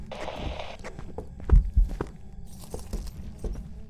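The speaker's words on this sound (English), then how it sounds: "What we want to do is listen to those footstep sounds." A ghost's footsteps during a hunt in Phasmophobia at Grafton farmhouse thud in a slow, uneven run of heavy close steps over a low background hum, with no talking.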